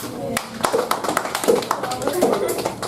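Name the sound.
applause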